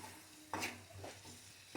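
A spoon stirs rambutan pickle in a pan, giving a couple of short scraping clinks over a faint sizzle, close and fairly quiet, with no voices.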